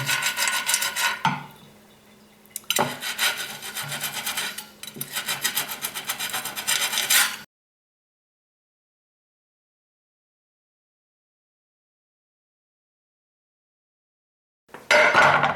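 A Sir Scrubbington chainmail scrubber rasps over a ridged cast iron pan in close, gritty strokes for several seconds, then falls silent before one more brief burst of scrubbing.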